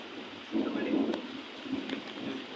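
Low rumbles of thunder roll twice over steady rain, distant and muffled rather than sharp.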